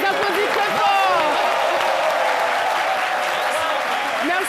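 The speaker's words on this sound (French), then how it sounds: "Merci beaucoup, on les applaudit très fort." A studio audience on a live midday television show applauds a band, with continuous clapping under a presenter speaking over it.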